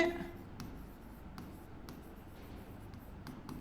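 Pen or chalk writing out a maths working, faint scratchy strokes in short bursts spaced through a quiet room with low background noise.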